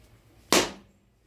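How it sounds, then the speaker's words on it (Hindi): A single sharp crack as a coconut is broken open for a Kanya Pujan ritual, a brief loud impact fading quickly in a quiet room. "अब ये नारियल तोड़ रहे हैं कन्या पूजन के लिए।"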